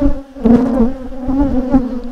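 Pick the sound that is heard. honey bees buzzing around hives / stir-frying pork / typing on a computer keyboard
honey bees buzzing around hives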